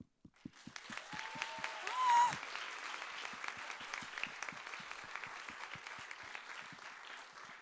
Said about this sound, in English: let's give a huge applause to them for the last time